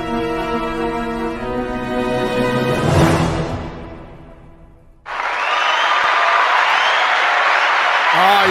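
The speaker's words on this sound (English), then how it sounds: "Listen to that crowd." Crowd applause and cheering swells loud and steady for several seconds, dies away, then returns as a dense, close roar of clapping and cheers.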